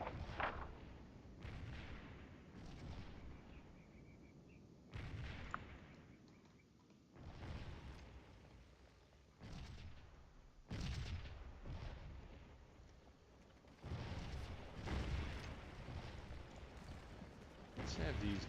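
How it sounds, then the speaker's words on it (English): Federal artillery booms in a Scourge of War Civil War battle, several heavy thuds and rumbling volleys spaced across the stretch, fairly distant and mixed with battlefield noise, with a voice talking over parts of it. "Lot of federal artillery."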